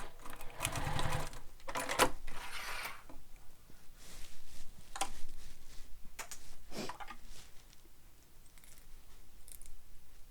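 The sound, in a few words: sewing machine stitching a top stitch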